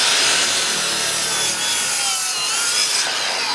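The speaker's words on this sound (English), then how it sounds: "I think this is the first real battery miter saw" A Makita 36V cordless battery miter saw cuts through wood, a loud, continuous high-pitched whine and rasp lasting the whole stretch with no talk.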